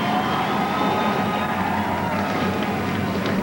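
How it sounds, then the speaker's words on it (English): Thirty-five Vortec-powered ASA AC-Delco series stock cars fire up together at Hawkeye Downs Speedway, a loud, dense, continuous engine roar filling the air with no break and no voices. "you hear the answering call of 35 Vortec engines springing to life"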